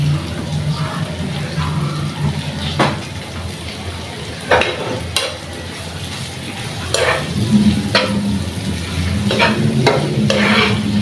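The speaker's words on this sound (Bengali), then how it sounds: "তো আমি তেলের সাথে শুটকিটা কতক্ষণ ভাজবো, ভেজে নিলে ভালো হবে।" Dried fish (shutki) frying in oil with onion in a pan: a loud close sizzle under frequent scraping spatula strokes and occasional utensil knocks, no one speaking.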